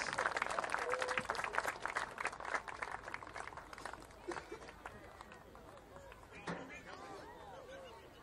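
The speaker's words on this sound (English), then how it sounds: "Let's give them one more round of applause" A football crowd gives senior athletes another round of applause at a high school varsity game. The clapping is loud at first and thins out to scattered claps, with some crowd voices mixed in.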